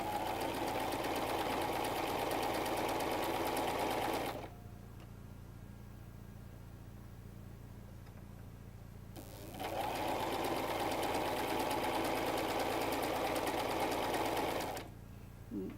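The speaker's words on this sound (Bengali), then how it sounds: "একদম আমরা যে চক দিয়ে দাগ দিয়েছি সেই দাগ বরাবর আমরা সেলাইটা করে নিব।" A sewing machine stitches fabric in two steady bursts of rapid whirring, close and fairly loud, separated by a quiet pause of several seconds.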